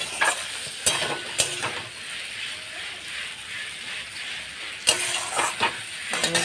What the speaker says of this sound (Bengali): আর এই যে কষানো হচ্ছে।